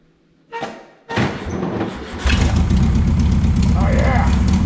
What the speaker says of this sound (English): We are going to try to start it.